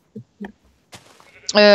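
A sheep bleats in a survival video game, a sustained loud bleat at the end that follows a few faint, scattered sounds.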